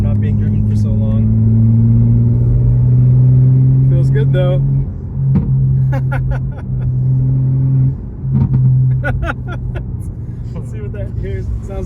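A tuned, unlocked 2025 BMW M4 Competition heard from the cabin, its engine holding a loud, steady low drone before easing off into clusters of crackling exhaust burbles and pops, with someone speaking briefly.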